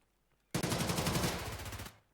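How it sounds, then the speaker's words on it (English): A single sustained burst of rapid automatic gunfire from a competitive shooter video game match with rifles such as AK-12s breaks out after a quiet start, rattles loudly for about a second and a half, then stops. "Shots ringing out back and forth."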